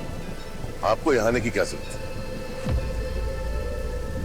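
Rain hisses steadily through a thunderstorm in a TV drama scene, with a low thunder rumble rolling in near the end, while someone speaks over the downpour.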